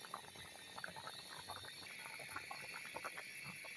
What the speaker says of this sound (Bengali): মশলার সাথে আলুর সাথে কষিয়ে নেওয়া হচ্ছে